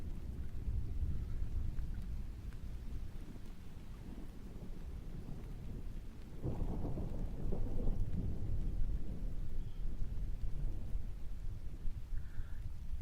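An outdoor thunderstorm with steady rain pattering on surfaces and deep rolling thunder swelling midway, sustained and fairly close, with some wind buffeting the microphone and no talking.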